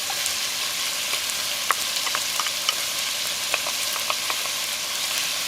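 Chuck beef and onions fry in hot oil in a pot, giving a steady close sizzle with scattered pops and crackles throughout, no talking.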